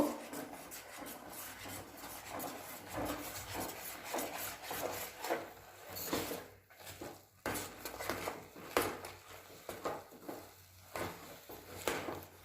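A wooden spoon or spatula scrapes and rubs steadily through thick chushi pitha dough in a pan, a close, continuous rasping stir with brief pauses and no voices.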